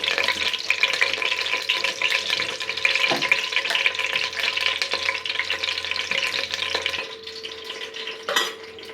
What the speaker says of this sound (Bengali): এখন চিকেন ফ্রাইটা ভাজছি